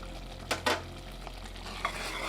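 A spoon stirs black gram pongal with ghee and crushed cardamom in a pot, giving a few soft scraping swishes over a faint hiss of cooking, with no voices.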